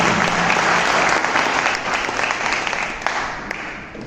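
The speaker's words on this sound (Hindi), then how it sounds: "एक बार जोरदार तालियां बजाकर इनका स्वागत व अभिनंदन।" Steady audience clapping welcomes a guest at the inauguration ceremony of a seven-day National Service Scheme special camp, dense and continuous, gradually thinning toward the end.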